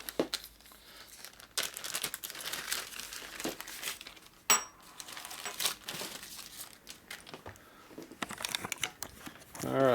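An old 1970s plastic parts bag holding a genuine Harley-Davidson cam cover bushing crinkles and rustles close by in bursts of handling, with sharp crackles and a brief faint voice.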